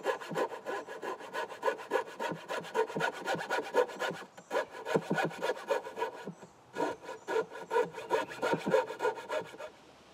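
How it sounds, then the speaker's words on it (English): A hand saw cuts a slot in wood for a lawnmower trailer hitch, with rapid rhythmic rasping strokes close by, pausing briefly twice before resuming, with no talk. "Now I'm cutting out a slot so that I can mount the hitch."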